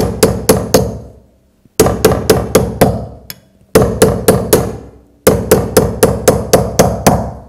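Light hammer taps on a ring jammed over a knuckle, hit gently in the middle to widen it, arrive in four quick runs of four to six crisp, ringing metal strikes with brief gaps between them, close and alone.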